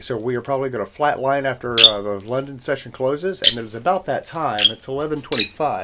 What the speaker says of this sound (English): So if you hear a little chirping in the background, that's an actual bird.